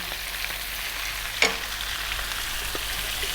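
Fresh chilies fry with ginger garlic paste in a pan over medium heat for a mutton masala curry, giving a steady close sizzle with a brief clatter of stirring partway through.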